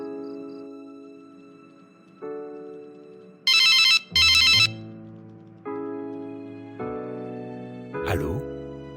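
A telephone ringtone plays before a call is answered: a melody of stepped sustained tones, broken by two loud trilling bursts, then a final sweeping chirp.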